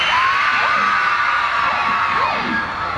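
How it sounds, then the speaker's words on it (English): A concert crowd of women screams loudly and continuously at a show, a dense sustained wall of high-pitched shrieks and cheers with no break. "can I have all the ladies scream as loud as they can?"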